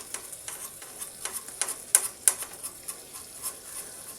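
Fish roasting in a pan gives a soft, steady sizzle with light crackles and a few sharper pops and ticks, close and fairly quiet, with nobody talking.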